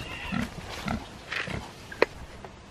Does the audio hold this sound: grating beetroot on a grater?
no